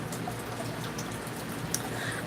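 Water splashing noisily in a fish tank with a low water level, a continuous busy patter of droplets and burbles with one sharp splash near the end.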